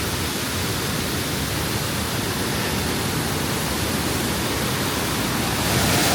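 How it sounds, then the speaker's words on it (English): Mae Sa Waterfall in Chiang Mai roars in a steady, dense rush of crashing water, loud and constant throughout. "That is some raging water."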